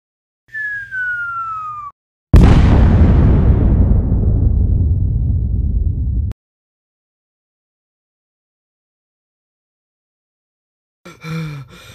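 A cartoon bomb falls with a descending whistle, then bursts into a loud, roaring blast that rumbles for about four seconds before cutting to silence, with a short vocal sound near the end.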